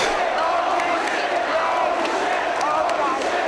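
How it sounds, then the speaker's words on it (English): Wrestling fans at an FWA Front Line show roar and shout in a dense, loud, continuous crowd wash, with scattered whoops and cries rising above the steady din. "Listen to the crowd. Listen to the fans."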